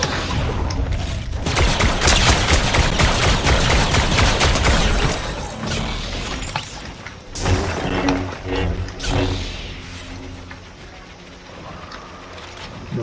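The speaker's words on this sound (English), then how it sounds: "there's someone else shooting at us" Rapid bursts of gunfire in Fortnite crackle loudly for several seconds, then fade into scattered mechanical clanks and quieter rumbling.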